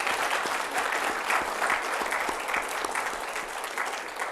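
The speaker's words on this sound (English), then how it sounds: "Can I ask each of you to give a round of applause to Erin and Zuli for their time?" A room of people applauds for two guest speakers at a career networking talk, a steady, dense patter of many hands clapping at close range throughout, with no talking over it.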